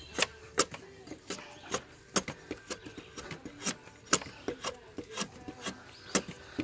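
Drawknife shaving wood on a shave horse, a string of irregular scraping strokes and soft knocks, fairly quiet and close, with no speech.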